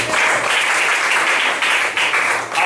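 A church congregation bursts into loud, dense applause at the close of a sermon, sustained clapping close by with no talk over it.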